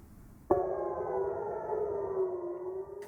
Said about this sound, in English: sirens blared across central Israel